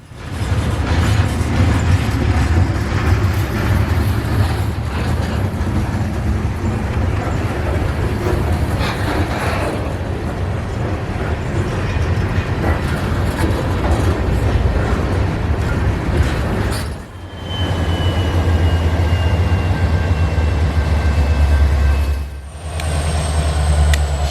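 Heavy continuous rumble and grinding of a freight train backing slowly while switching in a rail yard nearby, with metallic squeals and clanks rising over the low drone.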